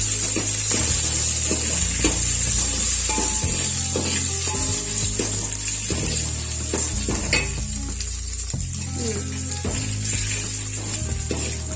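Dried red chillies and curry leaves sizzling in hot oil for a South Indian tempering, a close, continuous crackle with scattered sharp pops and a steady high hiss.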